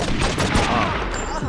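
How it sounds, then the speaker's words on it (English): Gunfire in the video game True Crime: New York City, a dense loud rattle of rapid shots packed into a short burst, heard close and without talk. "Two shots."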